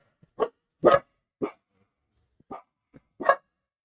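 A dog barks about six times in short, irregular single barks, close and loud against otherwise silent surroundings.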